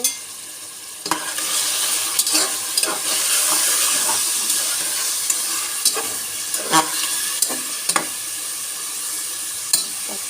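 Noodles with soy sauce are stirred in a hot pan, a continuous steamy sizzle broken by sharp scraping strokes of the utensil at irregular intervals, close and fairly loud, with no talking.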